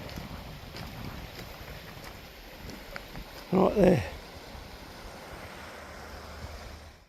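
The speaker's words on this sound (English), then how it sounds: "the wind's kicking in a bit" Wind gusts and rushes across open water at a fishing spot with a steady background roar, while someone speaks briefly nearby.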